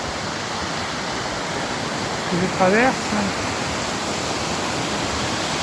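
At night a main river rushes beside a bridge in the Gran Paradiso massif, a steady broadband roar filling the whole stretch while someone speaks briefly over it.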